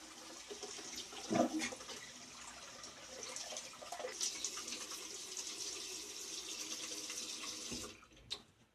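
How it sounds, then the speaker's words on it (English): Tap water runs steadily into a sink as someone rinses off after a wet shave, a continuous close hiss with a brief splashy burst early on, stopping abruptly near the end. "let me rinse up"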